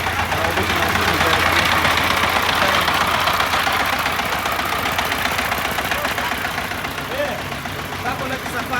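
A mustard oil press machine runs with a loud, steady mechanical drone and rattle that holds throughout and eases slightly toward the end.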